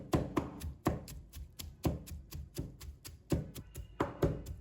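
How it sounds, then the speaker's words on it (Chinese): Lotus root being chopped on a board with the back of a kitchen knife: a steady run of sharp, close wooden knocks, irregular but fairly even in pace, with no voices. "我们一直用刀背将莲藕剁成这种细腻的颗粒状就可以了"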